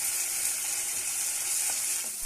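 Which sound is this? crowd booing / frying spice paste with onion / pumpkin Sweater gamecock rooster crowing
frying spice paste with onion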